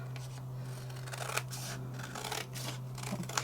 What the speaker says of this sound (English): grab my scissors and I'm going to cut around my card base just like so